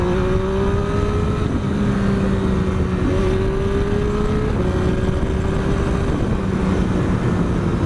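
A 2012 Triumph Street Triple R motorcycle engine runs loud and close in a continuous droning rumble, its pitch stepping up and down slightly as it is ridden.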